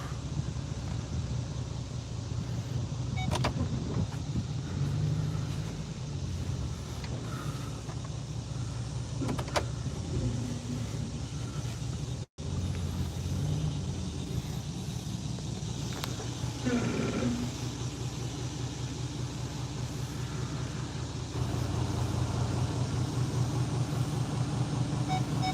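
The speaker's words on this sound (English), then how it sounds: "Right now we're about to back this truck off in the ditch." A truck reverses off the road into a ditch, its engine a steady, close, low rumble that runs the whole time, with a few brief knocks and one sharp dropout partway through.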